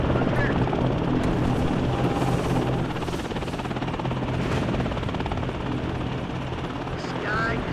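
An Apache attack helicopter in the Warno wargame flies with a steady, loud rotor roar and engine drone that fill the whole stretch, with faint game chatter mixed underneath.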